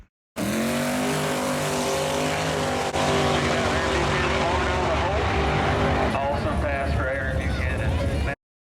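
A race car makes a drag racing run at an outlaw list race, its engine roaring loud and close for several seconds as revs climb and shift, with a voice talking over it.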